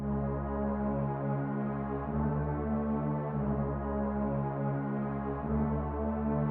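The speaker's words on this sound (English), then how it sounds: "I added this very warm sounding pad from Expand" A very warm, sustained synth pad from the Expand plugin holds steady chords alone, its rich, even tone filling the whole span with no gaps.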